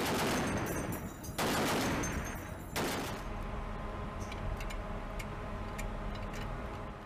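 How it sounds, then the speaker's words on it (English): Bursts of US Navy 50 caliber machine gun fire, loud and close, with two sustained rapid volleys followed by sparser sharp reports and a steady background rumble. "The weapon system comprises the 50 caliber machine guns, which come in handy against aerial threats."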